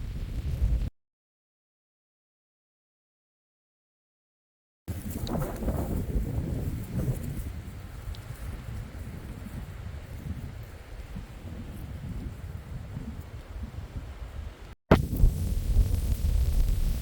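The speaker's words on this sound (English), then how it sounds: "this wind is just relentless" Strong relentless wind buffets the microphone outdoors in the mountains of the High Uintas, with low roaring gusts and rustling that break off briefly and then return.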